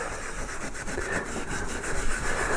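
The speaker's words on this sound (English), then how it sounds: "So that's polishing up nicely" A carved wooden Arts & Crafts clock is being polished by hand, giving a steady, close rubbing and scraping texture with a quick back-and-forth rhythm and no talk.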